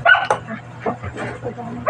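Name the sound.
dogs barking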